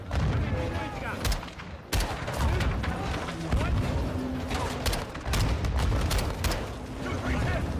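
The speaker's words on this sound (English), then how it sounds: "Incoming! Take cover! They're launching grenades!" Grenade explosions and heavy gunfire from a video game firefight crackle densely and loudly without a break, with booming bursts and rapid shots overlapping throughout.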